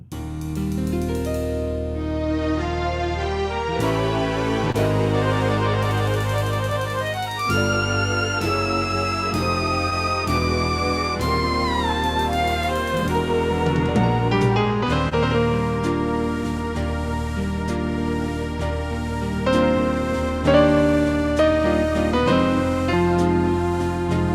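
A full Symphony keyboard arranger Intro 2 plays: bright synth melody over bass and drum accompaniment, loud and continuous with changing chords, no voices.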